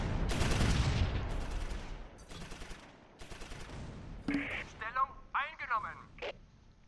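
Bursts of gunfire from a Close Combat IV World War II battle at Stavelot and Vielsalm, rapid machine-gun volleys early on, then scattered shots mixed with game voices and radio-like chatter.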